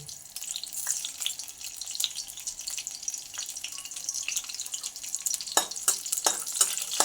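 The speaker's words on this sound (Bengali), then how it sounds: "তেলটা গরম হয়ে গেছে তো আমি মুট মুট করে কাঁচা লঙ্কাগুলো কিন্তু ফাটিয়ে ফাটিয়ে দিয়ে দিচ্ছি" Green chillies hitting hot oil, a bright continuous sizzle with scattered sharp pops and crackles growing busier toward the end, heard close up.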